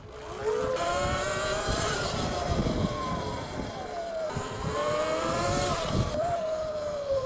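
An E Ride Pro SS electric bike peaking at about 12 kilowatts makes a faster run, its motor whine rising in pitch in two long sweeps over steady wind and road rumble, close and continuous with no talk.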